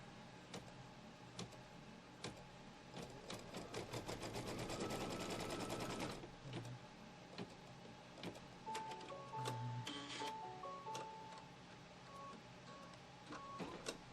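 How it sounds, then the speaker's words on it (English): A quilting sewing machine stitches to tack down fabric, a rapid steady needle rattle building to a fast whirring run for a few seconds, then stopping, followed by faint clicks and small handling sounds, close but quiet. "Put the foot down. Keep your fingers away from the moving needle. And let's tack down this fabric."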